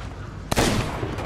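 A single sharp gunshot in the pirate video game Sea of Thieves, loud and close, bursting out of quiet background noise and trailing off into a brief rumbling tail.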